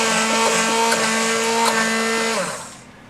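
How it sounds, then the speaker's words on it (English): An immersion blender whirs loudly in a pot of potato soup, a steady high motor whine with a bright tone that holds for over two seconds, then winds down and stops. "I'm going to take an immersion blender and I'm just going to blend it a little bit."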